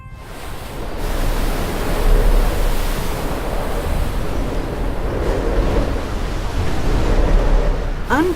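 Rough Southern Ocean waves around Antarctica, driven by powerful winds, roar as a steady, loud, broadband wash of surf and wind noise that swells slightly and never lets up.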